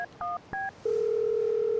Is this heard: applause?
no